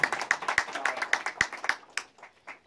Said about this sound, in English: I think we all owe him a round of applause for everything he's doing.